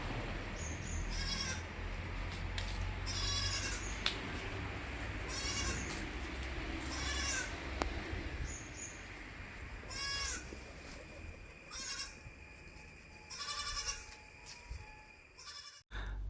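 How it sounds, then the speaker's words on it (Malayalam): A crossbreed mother goat and her two kids, one male and one female, bleat repeatedly in short wavering calls at intervals over a steady outdoor background hum, with no talking. "ഒരു അമ്മയാടും അതിൻ്റെ രണ്ടാമത്തെ പ്രസവത്തിലെ ഒരു മുട്ടൻകുട്ടിയും ഒരു പടക്കുട്ടിയും"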